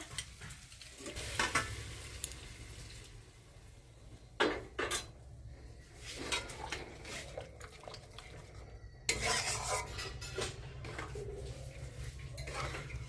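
Potato and vegetable curry cooks in a pot while a utensil stirs and scrapes, with intermittent clanks of metal against the pot over a soft sizzle. Close and fairly quiet, with no talking.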